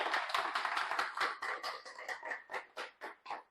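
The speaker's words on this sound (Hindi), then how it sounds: "तो इसी बात पे जोरदार ताली बजाते हैं" Audience at a business talk giving a round of clapping, the sound thinning from dense applause into a few separate, evenly spaced claps that fade out, fairly quiet and distant.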